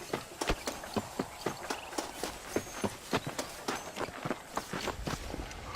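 A horse's hooves clip-clop at a steady walking pace in the Red Dead Redemption video game, the sharp, evenly spaced strikes sounding close and distinct over quiet background ambience.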